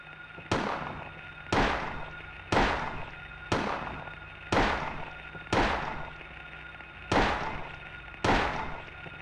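Gunshots in the video game Silent Hill, seven sharp loud bangs fired at an even pace about one second apart, each one trailing off into a short echo.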